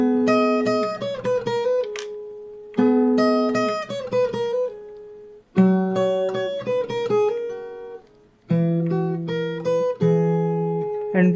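Fingerstyle acoustic guitar picks out the intro of a song in four bright, ringing phrases, each beginning with a fresh attack and letting its notes sustain before a short gap, played alone with no voice.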